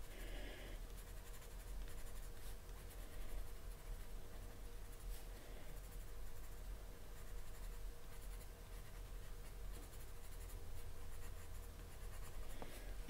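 A Caran d'Ache colored pencil scratches and rasps steadily across paper in continuous close-up strokes, quiet and dry, with no talking over it.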